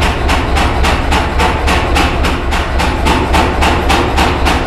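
Steady, evenly spaced hammer blows ring out on metal in a workshop as a hammer is forged, loud and close with roughly three strikes per second over a constant low hum.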